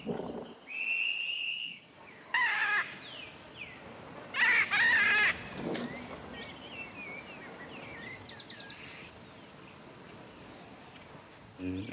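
Macaws in an aviary give a few loud, harsh squawking calls over a constant chorus of crickets. Other birds whistle faintly in the distance.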